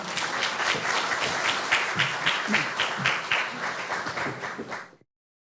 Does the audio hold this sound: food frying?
no